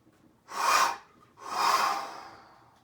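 Two deep, forceful breaths taken during a pre-ski yoga and qigong session, each a long airy rush that swells and fades, the second longer and trailing off, close to the listener with no talking.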